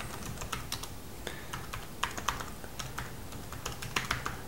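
Fingers type on a computer keyboard nearby, producing irregular quick key clicks with a few louder taps, steady and close, with no one talking.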